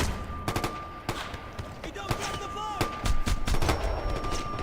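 Gunfire in a Ghost Recon video game: sharp, loud shots and short bursts scattered irregularly throughout, building into denser firing near the end, with voices talking between the shots.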